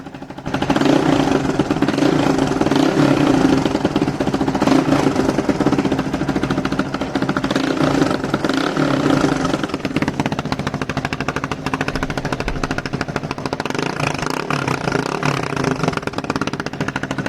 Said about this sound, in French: Et elle démarre très bien, elle tient son ralenti directement.